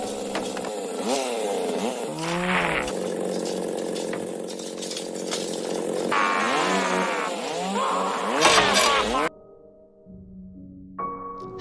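A loud, revving chainsaw used as a weapon in a film fight scene whines and rises in pitch over a busy action mix, then cuts off abruptly, leaving a quieter musical tone.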